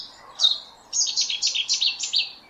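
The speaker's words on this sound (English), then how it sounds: "it's Chetty's warbler" Recorded song of a Cetti's warbler in Essex: a sharp opening note followed, after a short pause, by a loud, rapid burst of repeated bright chirping phrases, close and clear over a quiet background.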